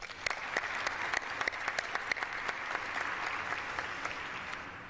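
Sustained applause from an audience at Ford Field in Michigan, a dense wash of clapping with sharp individual claps standing out, steady and fairly loud throughout with no voices over it.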